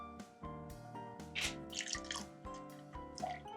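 Alcohol poured into a glass while building a ranch water cocktail: a bright trickling, gurgling pour with rhythmic glugs and splashes over several seconds, close and without talk.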